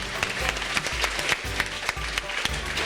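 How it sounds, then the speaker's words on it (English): Audience applause at a farmer-neighbor dinner in Chautauqua, a dense wash of clapping with scattered sharper claps, fairly steady and moderately loud throughout. "Let's give her a round of applause."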